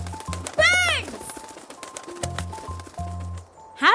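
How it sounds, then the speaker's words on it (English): Cartoon birds chirp and call in quick swooping, whistling notes over a bouncy musical backing, a short bright flurry of tweets near the start with softer calls after. "Happy Hippo can hear the birds. Can you hear them? Yes! Birds!"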